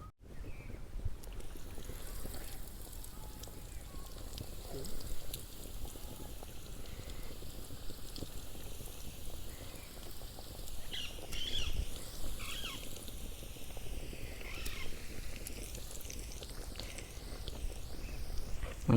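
Bread-coated chicken pieces frying in hot oil, a steady dense sizzle and crackle with faint bubbling throughout, close and continuous with no talking.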